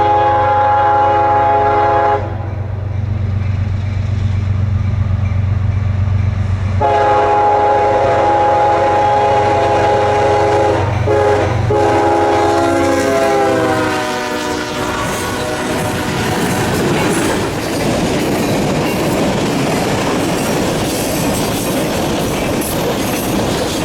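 A coal train sounds a loud, sustained horn in long blasts as it approaches, then the horn stops and the rumble and clatter of the passing wagons take over, close and heavy.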